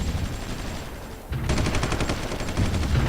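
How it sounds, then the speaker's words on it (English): Artillery and gunfire from the strategy game Supreme Ruler 2020 rattle in rapid, dense bursts, a brief lull giving way to sustained, loud volleys with no voice over them. "they're under attack by artillery again"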